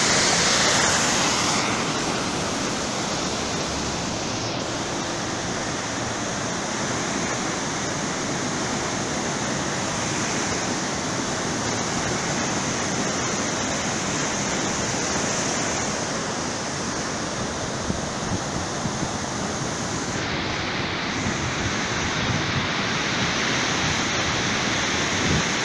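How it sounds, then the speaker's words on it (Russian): Hot thermal spring water flowing steadily in a mineral stream at an outdoor bathing spot, a dense continuous rushing and gurgling close by with no talk. "Ну, а источник горячей воды прямо у меня под ногами."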